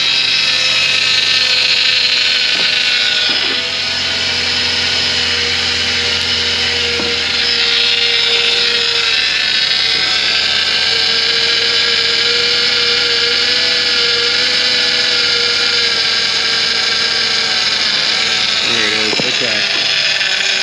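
A 2013 Mini Transit's high-pressure hydraulic pump, running on aerated fluid after a leak repair, whines steadily and loudly for the whole stretch, with an idling engine underneath and occasional faint knocks.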